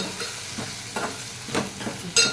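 A spoon stirs masala with ginger garlic paste in a hot pan. Rhythmic scrapes come about every half second over a soft sizzle, close and fairly clear, with no speech.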